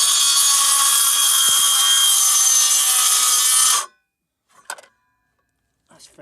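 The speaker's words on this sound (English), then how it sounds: "When you're using your saw, a circular saw, always start it up first and get it running." A DeWalt DCS391 18V cordless 165mm circular saw cuts steadily and loudly for about four seconds, then stops abruptly, leaving silence broken by a couple of brief faint knocks.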